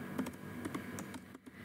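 Quiet, close typing on a computer keyboard during spreadsheet data entry, a few scattered light key taps over a low steady background hiss.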